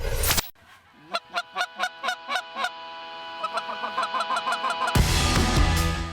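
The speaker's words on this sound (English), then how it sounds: "the geese were fired up" Geese honk in a quick series of sharp calls, then another flock answers faintly before a loud burst of rushing noise.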